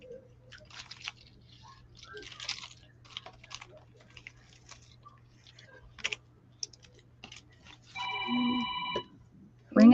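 A telephone rings once with a short, electronic tone burst near the end, heard after quiet clicks and tapping of craft work.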